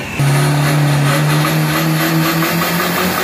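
A 1.9 DDI racing car engine revs hard at close range, giving a loud, sustained droning roar whose pitch climbs and wavers over a few seconds at a drag strip.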